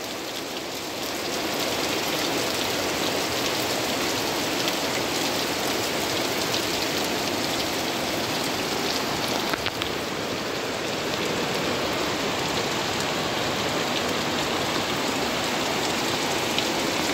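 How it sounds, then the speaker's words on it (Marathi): Heavy first monsoon rain pours steadily onto tiled roofs of Konkan houses, a dense, unbroken hiss that holds at the same loud level throughout, with no voices. "सुंदर असा पाऊस पडतोय"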